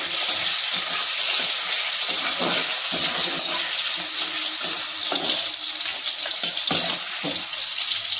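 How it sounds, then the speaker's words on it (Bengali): Chopped tomatoes frying in oil with dried red chilli in a home kitchen, giving a continuous bright sizzle and hiss with occasional stirring knocks and clatter, close up and without talk. "টমেটোটা দিয়ে দিচ্ছি, টমেটোটাকে ভালো করে ভাজতে হবে।"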